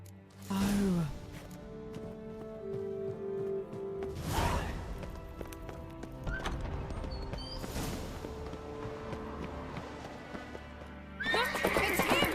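Horses in The Witcher video game whinny loudly near the start, followed by steady clip-clopping hoofbeats that carry on through the rest of the scene over a layer of game ambience.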